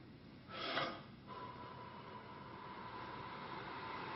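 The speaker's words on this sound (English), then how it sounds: "Take a big breath in" A single big breath drawn in through the mouth, a short airy gasping rush that swells and fades within half a second, followed by a quiet faint hum of room tone.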